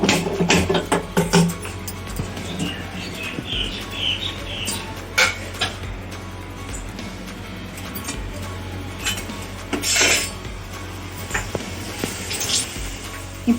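Utensils clink against a kadai as onions are added for dondakaya (ivy gourd) fry, a string of sharp metallic taps and scrapes at close range, alone with no talking.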